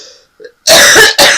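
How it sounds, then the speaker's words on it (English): Two harsh, loud coughs come close to the mic, one after the other with a brief break between them, following a few faint quiet sounds. "I have an awful cough, and it's going to come up"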